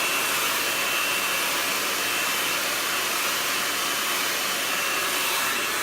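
A hair blow dryer runs steadily and loudly at close range during a hairstyling blow-dry, its continuous whooshing roar unbroken throughout with no talk.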